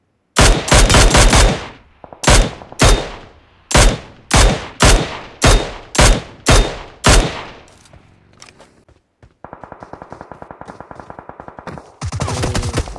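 Video game gunfire in loud rapid bursts, about eight separate volleys of automatic fire, followed by a quieter stretch of steady rattling shots and a final burst.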